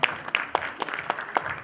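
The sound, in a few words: audience applause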